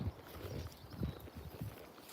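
A horse's hooves clip-clop on the ground during a ride, a quick, uneven series of soft thuds heard close and fairly quiet, with no talk over them.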